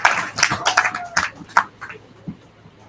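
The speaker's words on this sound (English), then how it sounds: "give yourself a round of applause" Scattered claps from a small audience at a DFW NORML meeting in a Dallas venue, a few hands patting unevenly for about two seconds before fading out.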